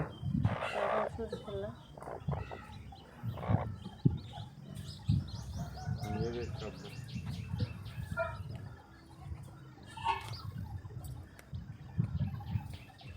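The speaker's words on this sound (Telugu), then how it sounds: "కోడి పిల్లలు చూడండి ఎంత ముద్దుగా ఉన్నాయో చిన్న చిన్నగా" Chicks peep and a hen clucks, with soft chirps scattered throughout under a speaking voice and low background noise.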